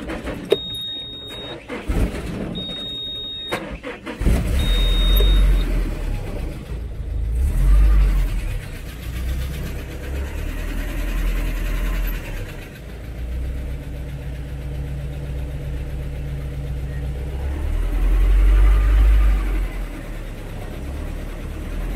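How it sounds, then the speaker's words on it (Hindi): A car engine cranks and starts after a few brief clicks, then settles into a steady low idle with a couple of short revs, close by and loud, without talk. "तो एक बार गाड़ी स्टार्ट कर देखते हैं कैसी आवाज़ है गाड़ी की"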